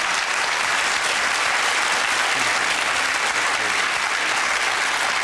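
A television studio audience claps in steady, sustained applause, a dense even wash of hands from start to finish.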